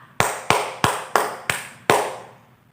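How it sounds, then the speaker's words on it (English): Six sharp hand claps ring out close and loud, five at an even quick rhythm followed by a short pause before the last, each decaying quickly in a quiet room. "clap."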